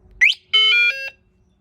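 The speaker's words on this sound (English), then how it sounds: "So there's your alarm system on, off" A 2023 Tao Gemini scooter's alarm sounds from its key fob with a short chirp and then a sustained two-tone electronic beep, loud and close, with no talking.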